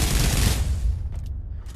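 MG42 machine gun fired in the VR shooter Pavlov, a dense, loud burst of rapid automatic fire that cuts off partway through, leaving a decaying echo with a couple of faint clicks.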